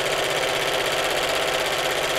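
A domestic sewing machine runs steadily, top stitching across the bottom of a fabric appliqué cushion, an even rapid mechanical whirr and clatter up close with no talk.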